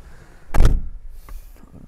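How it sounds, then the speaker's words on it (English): The door of a 2018 Nissan NV350 Urvan van closes with a single sharp, heavy thud, followed by a brief rattle and a couple of faint knocks. "let's check the thud of the door."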